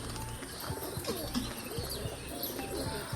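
A pigeon coos softly at dusk with low, repeated throaty calls over steady outdoor background noise, faint chirps mixed in.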